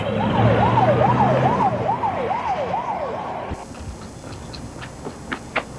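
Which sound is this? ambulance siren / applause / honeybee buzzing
ambulance siren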